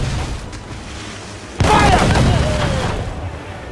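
A ship's cannon in Assassin's Creed fires one sudden loud boom in a naval battle, then its rumble fades while shouting voices continue over it.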